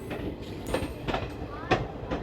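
Kanchanjunga Express 13175 (Sealdah–Silchar) running on the rails near Kishanganj, a steady rumble with periodic clicking wheel-joint beats and brief metallic squeals, fairly close, with faint background voices.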